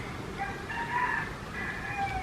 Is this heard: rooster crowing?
yes